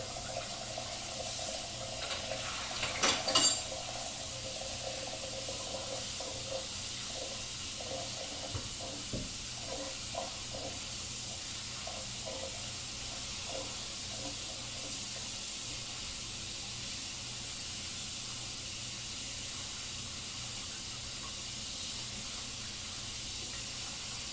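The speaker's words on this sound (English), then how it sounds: "I'm gonna do a good old rinse right now" A bowl with sticky potato mix rinsed under a running kitchen tap: a constant rushing hiss of water for the whole stretch, with a brief clatter early on and occasional faint knocks against the sink.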